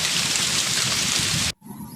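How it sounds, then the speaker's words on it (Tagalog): Heavy rain pours as a loud, dense, steady roar close by, then cuts off abruptly, leaving a quieter background. "Napakalakas ng ulan."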